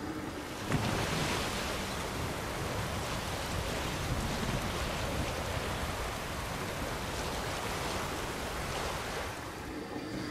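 Open sea in The Witcher 3 during a boat crossing: a steady wash of waves and wind rushes without pause, broad and even, with no voices over it.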